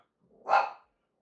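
A single short dog bark, close and clear, rising and falling within half a second against silence.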